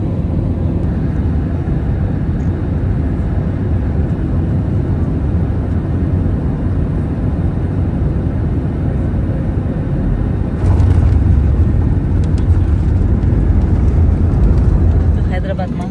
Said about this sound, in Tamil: இப்போ இறங்க போகிறோம். லேண்டிங் ஆகிட்டுருக்கு.